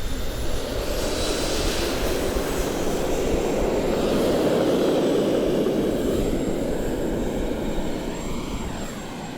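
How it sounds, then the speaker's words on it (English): A jet-powered Pitts aerobatic biplane roars past at an airshow, a loud steady jet engine rush with a broad low rumble and a slight shift in pitch as it passes, with no voices. "he's controlling or steering the aircraft with the jet engines"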